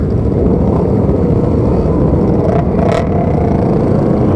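Several Yamaha R3 motorcycles pull away together, a loud, dense engine rumble that holds steady and close throughout, with no speech.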